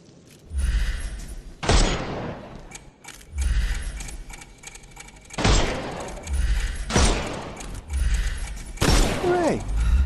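Guns fire in a Sherlock Holmes video game to shoot the armour off enemies, in a run of separate sharp bursts with hard impacts and metallic clanks, each followed by a short lull.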